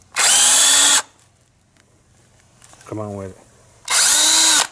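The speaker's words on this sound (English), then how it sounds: "you got to hold your drill straight." A power drill runs in two loud, steady bursts of about a second each, separated by a quiet gap in which someone speaks briefly.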